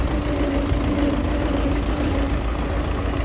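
A Belarus tractor from the mid-1990s, a Russian-built farm machine, idles with a steady, low, rumbling engine drone that stays near and constant.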